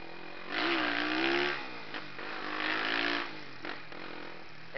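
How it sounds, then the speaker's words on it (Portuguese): A chrome Honda Twister motorcycle with a Doré exhaust is revved twice in strong, rising bursts, each settling back to a throaty idle, heard close and loud with no talking. "Ele vai ficar mó bravo que eu tô acelerando a moto dele"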